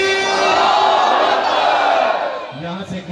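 A large gathering at a Muharram noha recital in Shergarh shouts religious slogans in unison, a loud sustained group cry that breaks off, followed by scattered voices.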